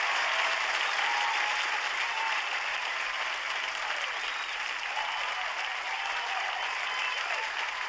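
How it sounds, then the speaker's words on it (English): Sustained applause from a concert audience for an orchestra and concert band fills the hall, a dense steady wash of many hands clapping at even loudness throughout, with no voices standing out. "Can I get a round of applause for our orchestra and concert band?"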